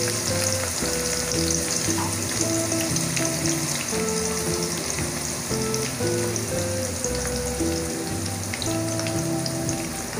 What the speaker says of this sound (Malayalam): ഇനി നമുക്ക് ഈ സവാള നന്നായിട്ടൊന്ന് വഴറ്റിയെടുക്കാം.